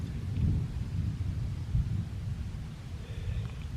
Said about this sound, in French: L'orage continue là-bas.